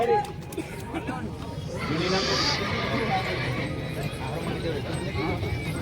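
A Kathiawari mare neighs amid a horse race crowd, the whinny rising over hoof clip-clop and a steady babble of voices, while people talk nearby.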